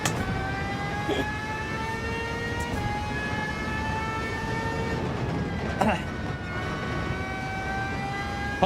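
Racing car in Gran Turismo 7 emits a thin, high engine whine that climbs and settles in long steady tones, with a few brief clicks and light background noise.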